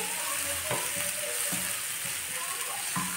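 Garlic frying in oil hisses in a steady, dense sizzle, with a few soft periodic scraping stirs, fairly quiet and close, with no voices.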